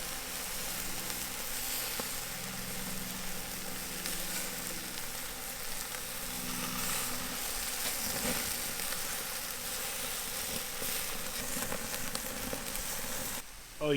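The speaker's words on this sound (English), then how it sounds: "you could just hear the sizzle" Marinated flanken-style Korean galbi beef short ribs sizzle steadily over hot charcoal, a dense continuous crackle close by with no talking.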